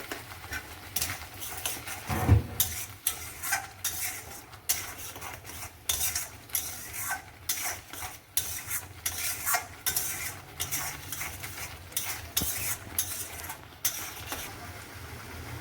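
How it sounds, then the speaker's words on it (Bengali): A spoon stirring and scraping potato curry, aloo dum, as it sautés in a pan: steady sizzling under a dense run of metallic scrapes and clinks, close and continuous, with occasional speech. "দিয়ে এটা আমি ভালো মতো কষিয়ে নেব"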